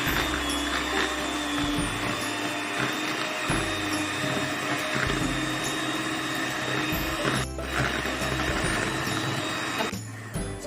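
A hung curd and condensed milk batter is mixed in a bowl, close and loud, with continuous whirring and churning, low rhythmic thumps and a few brief pauses, no speech.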